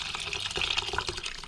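Water pours steadily into a simmering pot of East German soljanka, a soft, close trickle and splash lasting a second or so with no talking.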